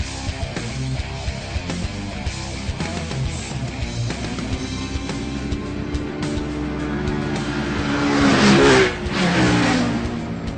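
Super middleweight sportbikes, a Suzuki GSX-R among them, riding on a street, engines humming and then rising into a loud revving pass near the end.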